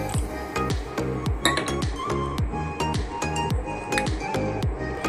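A utensil whisks batter in a bowl while milk is added bit by bit, giving steady, rhythmic clinks and taps against the bowl, close and continuous without talk.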